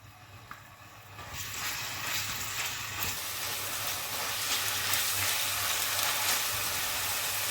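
Garlic paste sizzling in hot oil in a pan, a steady bright frying hiss that swells after the first second and continues loudly and evenly to the end, with no voices.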